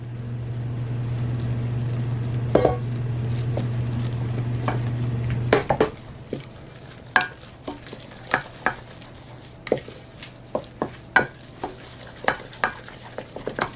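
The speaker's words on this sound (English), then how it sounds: "I've got my flour right here ready to go, and I'm just going to dump that in and stir" Flour is stirred into hot liquid for choux pastry dough made with fresh milled flour: a steady low hum and sizzle give way to repeated close scraping and clacking strokes of the spoon against the pot, irregular and fairly loud, with no talking.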